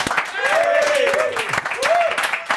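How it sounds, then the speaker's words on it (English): Studio audience applause greeting a guest musician on a talk show, a steady clapping texture with voices mixed over it. "Round of applause."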